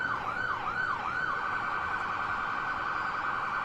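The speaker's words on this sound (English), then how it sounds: "they're sounding the siren right now" Police siren during a heavy police presence in Springfield, a wailing tone rising and falling in quick cycles, moderately loud and continuous from a nearby position.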